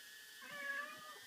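A house cat lets out a single drawn-out, whiny meow lasting about a second, fairly close but not loud, over a steady high-pitched electronic hum.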